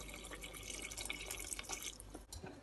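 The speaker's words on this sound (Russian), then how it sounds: "Добавляем воды." Water is poured into a pan of beef simmering with chopped kiwi, giving a steady close trickle and dripping splash that runs throughout, with a brief dip near the end.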